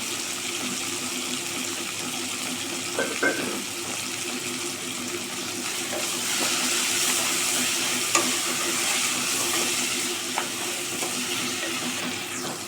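Onions sauté with tomato and a pinch of salt in a pan for brinji rice, a soft, continuous sizzle with occasional light stirring taps, heard close and without talk.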